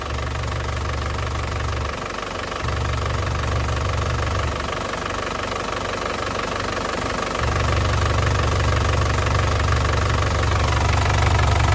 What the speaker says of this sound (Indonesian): Lanjut untuk bagian mesin ya, bos-bosku semua. Ini kondisi udah panas.